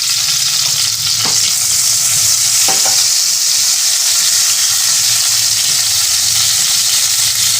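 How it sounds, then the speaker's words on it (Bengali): Panch phoron spices sizzle steadily in hot white oil, a continuous loud frying hiss with a couple of brief stirring clicks and scrapes, no voices over it. "এবার আমি একটু 5 ফোড়ন দিচ্ছি"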